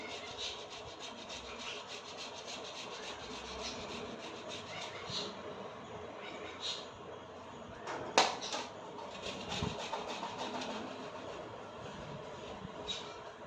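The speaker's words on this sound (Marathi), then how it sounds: "याप्रमाणे सगळे बटाटे किसून घेते" Potatoes being grated for fasting sago-potato chakli, a steady rough scraping rasp running throughout, fairly close and moderately loud, with a sharper knock partway through.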